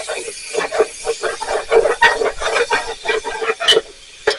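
Stuffed beef tongue being stirred in a pot, repeated close scraping and clanking strokes of a utensil against the bottom in an uneven rhythm, with a faint sizzle underneath.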